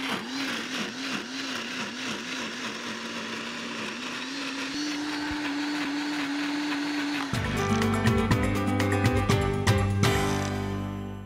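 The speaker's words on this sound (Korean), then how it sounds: "제가 이것을 믹서에 놓고요" A kitchen blender whirs loudly as it purées a velouté sauce, its motor pitch wobbling then steadying, before shifting into a harsher, grinding churn as the contents break down.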